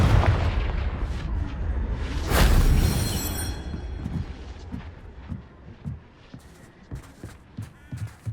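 A Confringo fire-blasting spell in Hogwarts Legacy erupts in a loud, booming burst with a whooshing roar around the third second, then gives way to a scatter of sharper impacts and crackles as the blast settles.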